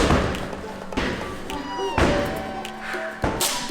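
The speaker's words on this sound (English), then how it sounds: "Wow, the kicking's hard." Kicks during a workout land as a series of heavy thuds and thumps at uneven intervals, with a voice talking softly underneath.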